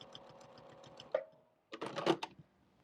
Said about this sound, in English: And then sew to where you started on the outside.